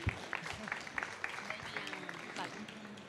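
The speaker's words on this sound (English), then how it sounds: "Applause." Audience at a conference on public procurement of innovation claps after a talk, a modest scattered round of applause with voices murmuring underneath.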